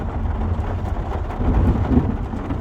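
Heavy rain pouring down with thunder rumbling close overhead during a storm on a farm in Portugal, a continuous loud wash with low rolling swells.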